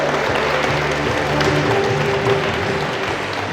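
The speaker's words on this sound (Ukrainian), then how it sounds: "Аплодуємо." A crowd gathered for a handball tournament applauds the teams in a loud, steady burst of clapping with a faint hum of voices beneath it.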